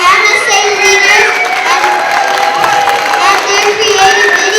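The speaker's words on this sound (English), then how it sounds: "Can we show our appreciation and a round of applause for our MSA leaders" An audience at a Muslim community celebration honoring student association leaders cheers and shouts, with children's voices prominent in a lively sustained crowd roar and some applause.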